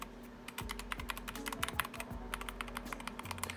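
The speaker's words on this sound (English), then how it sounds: "listen to the typing" Rapid, irregular clacking of keys on a SteelSeries Apex Pro TKL mechanical keyboard, close and fairly quiet, with no voices.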